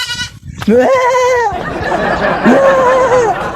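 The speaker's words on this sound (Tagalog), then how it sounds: "Maraming kambing pala dito mga chong." Two long, wavering goat bleats, loud and close, one after another with a short pause between, over faint background murmur, at Tubajon Aquamarine Park.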